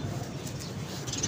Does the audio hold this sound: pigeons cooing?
yes